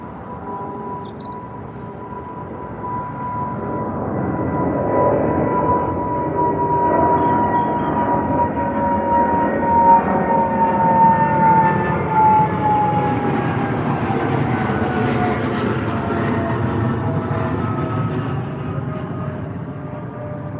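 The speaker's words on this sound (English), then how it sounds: "Off to New York City in the United States. 777-200, British Airways" A British Airways Boeing 777-200 jet departing Heathrow for New York, a loud, sustained engine roar with droning tones that slowly shift in pitch as the aircraft climbs away, heard at a distance outdoors.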